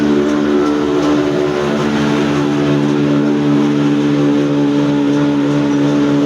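Up close, an old black engine powers a flour mill with a loud, even chugging hum, its deep repetitive beat steady and unbroken, no voices over it.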